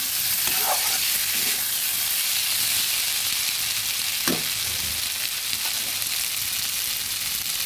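Potato and green pea ghugni fries in a pan while being stirred, a steady close sizzle and hiss broken by a few scraping strokes of the spoon, with no talking.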